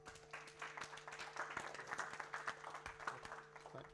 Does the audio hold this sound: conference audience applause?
yes